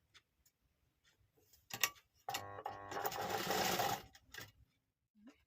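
Sewing machine stitching piping onto a dress, a couple of faint clicks followed by a single burst of rapid stitching about two seconds long, close and alone.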